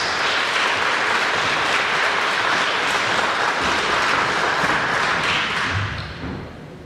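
A crowd at an East Midlands Comic Con 2014 Q&A panel gives a full round of steady, dense applause that holds strong before fading away at the close.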